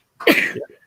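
A single sharp sneeze bursts close to the microphone and ends in a short trailing breath, with nothing else around it.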